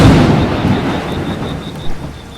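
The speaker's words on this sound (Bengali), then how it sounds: "কি বিদ্যুৎ চমকাচ্ছে রে বাবা।" A loud, rolling thunder rumble in a cartoon rainstorm, heavy and close at first, then slowly fading under a faint wash of rain.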